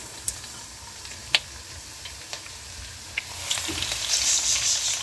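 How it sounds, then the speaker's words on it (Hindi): Finely chopped garlic hits hot oil and a quiet sizzle swells toward the end, with a few sharp ticks and clinks from a utensil or pan along the way and no voices. "हमारा ऑयल गर्म हो गया है। अब मैं इसमें ये लहसुन डालूंगी जो हमने बारीक कटिंग किया है।"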